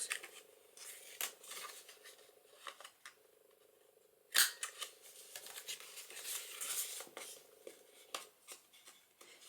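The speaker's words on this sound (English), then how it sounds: "I'm going to round the corners on that" Paper corners are rounded for a journal with a corner punch, giving crisp clicks and snips, one notably loud sharp cut midway, among faint handling rustles in a quiet room.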